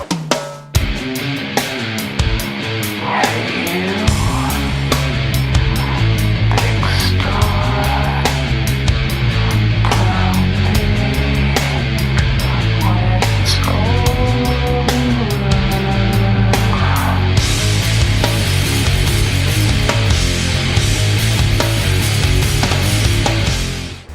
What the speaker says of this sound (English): The drum sounds you just heard helped shape the sound of rock music as a whole during this time